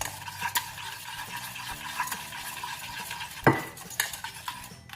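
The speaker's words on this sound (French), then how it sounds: "Mais je continue de mélanger." A spoon stirs a gelatine mixture for a pear and speculoos entremet in a bowl, giving soft continuous scraping with a few sharper clinks against the side, close up and with no talk.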